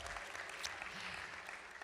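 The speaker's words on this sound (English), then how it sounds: "And yes, cheer on the library, you can cheer on" A live audience at a Brookline Public Library storytelling event applauding, with a dense, steady wash of clapping and faint cheering, distant and soft.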